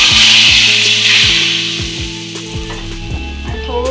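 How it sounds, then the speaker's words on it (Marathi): Hot oil tempering with asafoetida and red chili is poured into kadhi, giving a loud close sizzle and crackle that tapers off over a few seconds with scraping clinks of a spoon. "गॅस बंद करूया आणि ही फोडणी आपण याच्यात टाकूया।"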